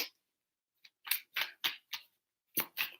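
Tarot cards being shuffled in a few quick bursts, a brief riffle then three crisp papery flutters and two more after a pause, close and fairly quiet with no talking.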